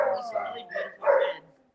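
A red rescue dog from a breeding and hoarding case barks in a few short bursts, close by, while people talk over and between the barks.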